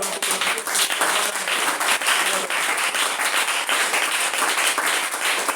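A church congregation applauding and cheering the Lord during a sermon, producing sustained, dense clapping with raised voices underneath, loud and continuous throughout.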